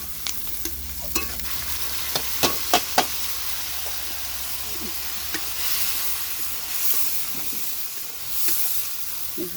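Onions frying with mutton in a pot over a wood fire, a steady close sizzle and hiss with a run of sharp knocks and scrapes from stirring early on.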